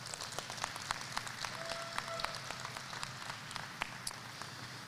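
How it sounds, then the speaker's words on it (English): Scattered applause from a modest crowd at an indoor archery tournament range, fairly faint and distant, with individual claps standing out over a low room rumble and no talking. "Let's give them a round of applause."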